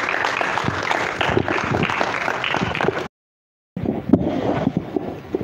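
Applause from a large audience at a political event, a dense mass of clapping that drops out completely for a moment and then comes back just as strong.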